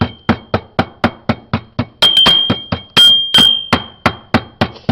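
Red carnelian material being broken into small pieces with a hammer: a rapid, steady series of sharp close knocks, roughly three per second, with a few ringing metallic strikes mixed in.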